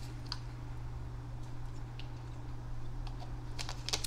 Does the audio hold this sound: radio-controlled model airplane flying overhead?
no